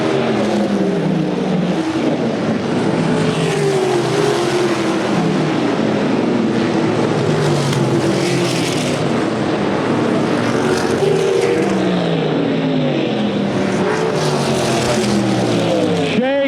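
USAC Silver Crown race cars howl around the DuQuoin track during the Ted Horn 100. Several engines rise and fall in pitch in a continuous, loud stream of passes with constant crowd-level ambience.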